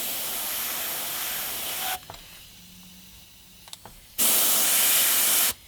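Spray gun hissing paint onto a Gibson SG Special guitar logo for a light touch-up, two steady bursts of airy spray separated by a quiet pause, with faint clicks of the gun between them.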